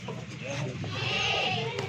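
Rajanpuri goats at a Pakistani goat sale bleat through steady barnyard noise, with a few short calls standing out from the general din.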